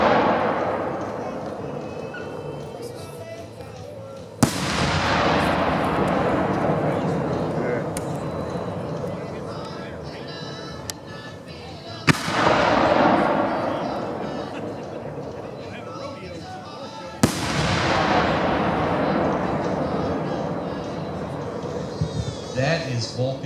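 Vulcan 8-inch firework shells bursting, three sharp, loud booms spaced several seconds apart, each followed by a long crackling, fading rumble, with people talking faintly in between.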